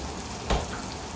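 Fennel seeds hit hot oil in a pan for kadhi pakora, producing a soft, continuous frying hiss with one brief louder crackle burst midway.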